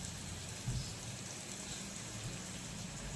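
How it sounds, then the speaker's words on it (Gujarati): Faint, steady rain falling, an even hiss of drops with a soft low rumble underneath. "વરસાદ અમારે બહુ મસ્ત મજાનો આવી ગયો છે."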